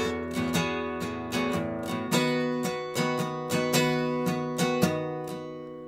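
Clean guitar chords from a song, played alone in a lesson setting: a rhythmic sequence of strummed and plucked chords with sharp attacks and ringing sustain, evenly paced, close and clear with no talking.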